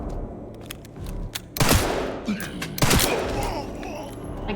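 Gunfire in the video game Resident Evil Requiem: two loud sustained bursts of rapid shots with heavy booming impacts, separated by a short gap, over a dense background of game sound.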